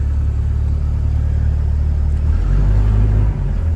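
A Toyota BJ40 drives off uphill on a hilly road, its engine rumbling low and close, rising in pitch as it pulls away, with no talk.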